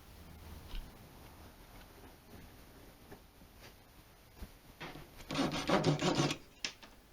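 Hand sanding wooden picture frame splines flush after trimming, a faint scattered rubbing before a louder, denser burst of rasping strokes near the end, with no talk.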